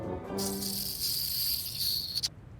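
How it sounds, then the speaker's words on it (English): Giant bees give a loud, high, steady buzz that swells in and cuts off sharply after about two seconds, following a brief low tone at the start, with no voices. "town's crawling with giant bees"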